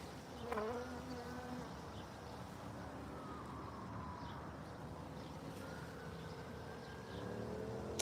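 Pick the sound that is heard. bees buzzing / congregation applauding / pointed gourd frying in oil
bees buzzing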